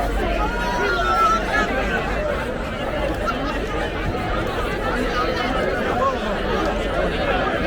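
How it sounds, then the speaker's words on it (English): Large outdoor crowd of celebrating New Zealanders in Parliament Square, London, chatting in groups, a dense continuous babble of many overlapping voices with occasional chuckles, steady and close all around. "All happily chit-chatting in groups and so on."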